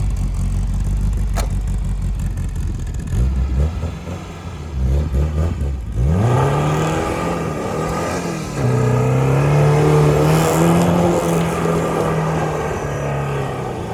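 A Tofaş car engine revs and accelerates, rising in pitch after a rough rumbling start, then holds a steady drone with a second surge, no voices.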